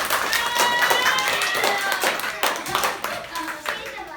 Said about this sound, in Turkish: Aynen, alkış